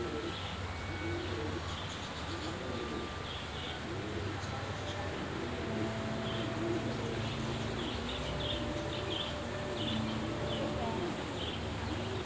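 Doves coo from a hanging bird cage at a cafe in Nha Trang, a repeated soft rhythmic cooing over steady outdoor background noise, with faint chirps higher up.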